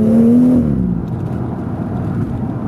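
A BMW M240i on the road, its engine droning steadily as it accelerates, heard from inside the car with a smooth, sustained tone.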